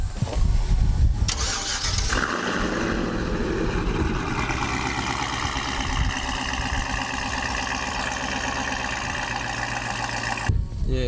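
Car engine cranking and catching around the second mark, then settling into a steady, loud idle with a low rumble that continues until it cuts off near the end, with brief voices at the start.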